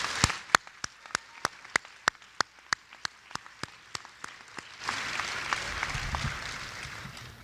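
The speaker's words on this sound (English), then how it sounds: "Let's give one more round of applause to all of our new inductees" At a Cherokee High School world languages honor society induction, a single person claps steadily and loudly near the microphone, then a broader, fainter round of audience applause swells in and continues.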